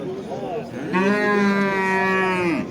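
A cow gives one long, loud, full-throated moo at a livestock market in Paxtaobod, Andijan, rising after brief background voices and holding steady before tailing off.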